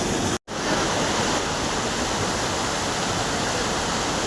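Dense, constant roar of Jogini waterfall near Manali fills the scene, broad and steady with no voices, after a brief cut at the start.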